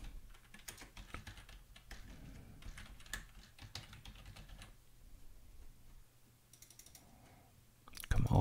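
Someone types the text of a game start button for a PowerPoint game on a computer keyboard. A quick, close run of light key clicks comes in bursts with short pauses, with faint talk in the background.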